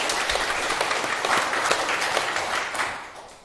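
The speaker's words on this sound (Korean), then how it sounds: "박수 한번 주세요." Audience applause at a Korean Buddhist dharma talk, a dense steady patter of many hands clapping that holds level, then fades away at the end.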